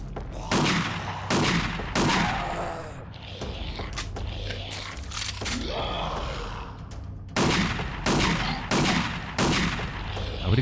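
Gunfire in the video game Dead Effect 2 comes in loud bursts of close shots: a few at the start, a busier, more mixed stretch in the middle, then a run of regular shots near the end, with game noise underneath.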